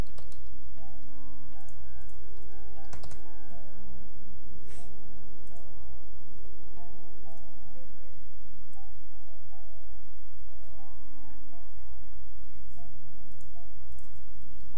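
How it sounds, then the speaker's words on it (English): Typing on a computer keyboard to enter a command, scattered light clicks over a steady hum with faint tonal background noise. "We're gonna type in ipconfig."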